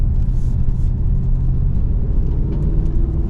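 Ford 7.3-litre gas Tremor truck towing a heavy load uphill, its engine a steady loud low rumble with road and tyre noise throughout, wheels spinning on the climb.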